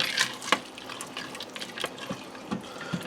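Frozen peas and carrots being stirred in an Instant Pot Viva, soft wet clicks and scrapes of the spoon against the inner pot coming in irregular bursts, close and fairly quiet.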